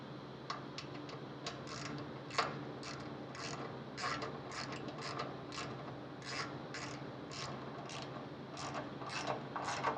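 A ratchet tightens bolts on a rock slider for a 5th Gen 4Runner, giving rapid, close clicking in repeated runs over a steady low background hum.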